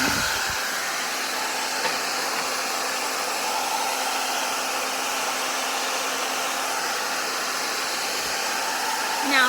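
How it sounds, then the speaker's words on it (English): A hair dryer blows hot air over water in a pan, steadily and loudly for the whole stretch, a constant rushing whir with no breaks. "I'm going to pull out my handy dandy hair dryer here, and I'm going to blow"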